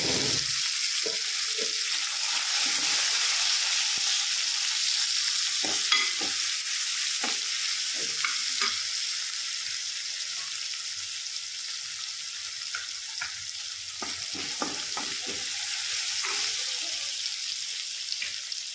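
Ingredients stirred in a pan of garlic frying in oil, with a steady, fairly loud sizzle throughout, broken by repeated scraping and stirring knocks; no voices, in a home kitchen making bitter gourd (karela) bhaji.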